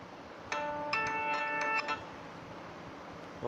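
A Moto E4 Plus phone rings with an incoming call, playing two short bursts of a bright, multi-tone electronic ringtone close by against a quiet room.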